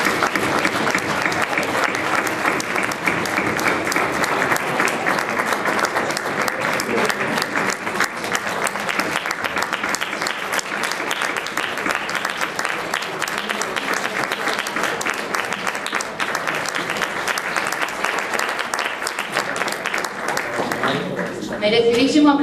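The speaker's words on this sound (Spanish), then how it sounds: "Merecidísimo aplauso, porque lo han hecho todos de maravilla." Applause from the audience at an international singing competition's award ceremony greets the finalists, sustained clapping at steady strength that cuts off near the end, where a voice begins speaking.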